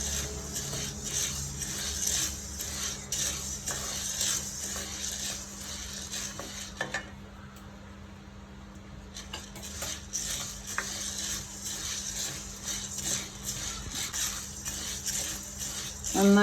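Ingredients for Kerala munthirikothu dry-roasting in a pan, giving a steady rustling, scraping stir with faint sizzle that drops out briefly midway before resuming.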